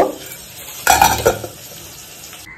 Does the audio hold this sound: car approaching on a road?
no